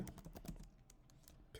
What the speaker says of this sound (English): I'm just going to quickly type that here